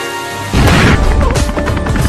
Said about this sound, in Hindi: कितना जोर से फटेगा वो पटाखा।